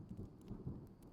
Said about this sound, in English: A gentle rain is falling.